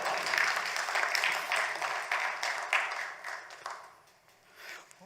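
Audience applause at a hospital presentation on digital innovation, a fairly steady wash of clapping that slowly thins out and fades toward the end.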